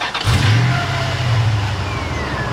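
A 2004 Dodge Ram 1500 with a Hemi V8, fresh power steering pump fitted, cranks and catches, then settles into a loud, steady rev close by, the engine droning on without talk.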